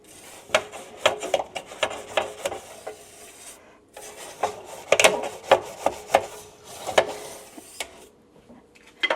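A bristle brush scrubbing into the narrow gaps between Harvest Right freeze dryer shelves, a series of close, rhythmic scraping rubs in two bursts separated by a short pause.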